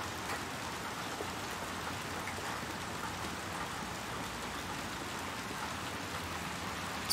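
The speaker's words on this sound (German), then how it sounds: "Jetzt sind wir wenigstens ein bisschen vor dem Regen geschützt." Steady, even rain falls throughout a scene in the video game Little Nightmares 2, a dense continuous hiss of drops with no voices, swelling slightly louder at the very end.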